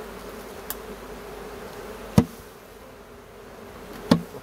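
Honeybees buzzing around a small nucleus hive during brood inspection, a faint steady drone under quiet ambient sound, broken by two sharp knocks as the box is handled.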